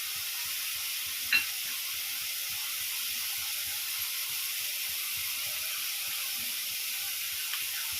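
Masala sizzles steadily in hot oil as it is stirred in a pan, a continuous soft frying hiss with one brief clink of the spoon near the start.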